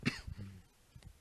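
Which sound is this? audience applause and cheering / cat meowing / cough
cough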